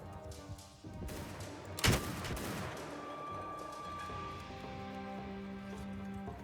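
Gunfire from horse gunner cavalry in the samurai strategy game Shokuho. A sharp loud volley bursts near the two-second mark over a steady bed of battle din, with scattered fainter cracks around it.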